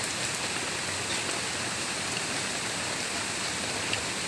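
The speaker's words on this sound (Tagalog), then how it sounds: "Lakas na ng ulan." Heavy rain pours steadily, a dense continuous hiss of drops with no pauses or voices.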